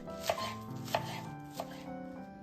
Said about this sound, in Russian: Теперь нарезаю зеленый лук.